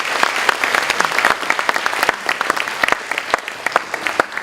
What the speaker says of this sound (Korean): 우리 양지숙 학생을 위해서 다시 한번 따뜻한 박수 부탁드리겠습니다